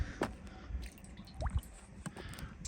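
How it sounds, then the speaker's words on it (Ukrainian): Cooking oil, 150 grams, poured into a cauldron outdoors in winter for Ukrainian pilaf, giving brief wet drips and splashes over a steady outdoor background, fairly close. "Наливаємо 150 грам олії."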